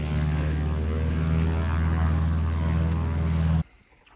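A light propeller airplane after a bouncy off-airport landing high above Marlette Lake near Tahoe, its engine droning loud and steady up close before cutting off abruptly near the end.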